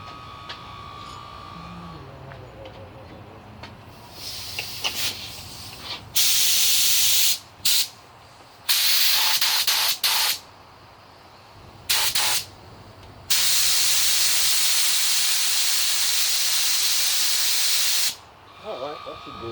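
Spray gun laying white paint on a Sprinter van body panel, loud hissing bursts of varying length starting and stopping repeatedly, close up, with softer background noise and brief talk before the spraying begins.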